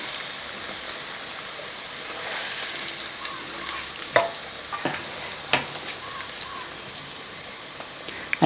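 Potato pieces fry in oil with a soft, continuous rain-like sizzle while a utensil turns them, giving a few sharp scrapes and clicks toward the end; nobody speaks.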